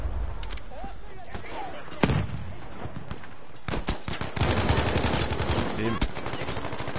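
Rapid bursts of automatic gunfire and single shots in the video game Battlefield 5, dense and continuous with game effects, and someone talking in French throughout.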